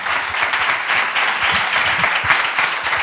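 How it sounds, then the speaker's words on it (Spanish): Loud, dense applause from an audience at a talk event fills the whole clip, with many hands clapping steadily and no break. "Le damos un fortísimo aplauso."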